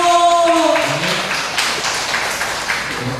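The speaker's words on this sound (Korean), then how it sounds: "마지막 강의 김동희 회장님 큰 박수로 모시겠습니다" Audience in a lecture hall applauding to welcome a speaker, scattered clapping of moderate loudness that follows a brief speaking voice at the start and continues unevenly.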